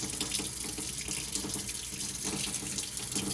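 Steady running water from a tap, a continuous close hiss and splash with no talking over it.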